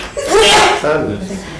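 A single sharp sneeze bursts out loud and close during a housing finance corporation board meeting, followed by a short trailing breathy sound in the quiet room.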